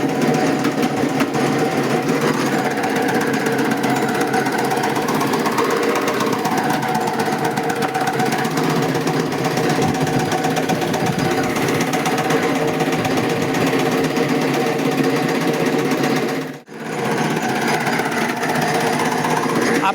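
Steady, loud mechanical whirring of a chaff cutter machine cutting fodder continuously, with a brief drop near the end before it resumes.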